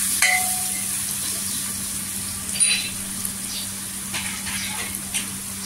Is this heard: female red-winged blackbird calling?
no